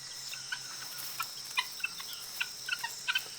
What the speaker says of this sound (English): they live in noisy flocks, clucking to help keep the group together